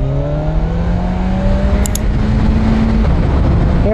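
2024 Kawasaki Ninja 1000SX sport-touring motorcycle accelerating hard with its quick shifter, the loud engine tone climbing steadily and then dropping as a gear is taken, all under heavy wind rush.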